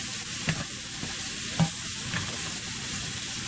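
Mushrooms sautéing in butter and garlic in a pan: a steady sizzle underneath, with a few distinct scrapes and knocks as a utensil stirs them around, close and alone.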